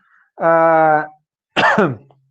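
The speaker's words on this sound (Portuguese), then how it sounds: "Agora eu comi o bolo, me deu tosse." A voiced, strained throat sound followed by a short harsh cough after eating cake, two separate bursts close to the listener.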